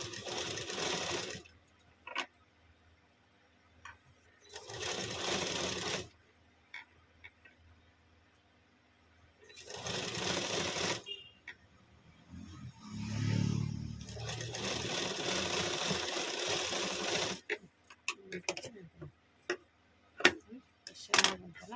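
A sewing machine stitching piping onto a blouse runs in four whirring bursts of a few seconds each, with quiet pauses between them and a brief voice in one gap.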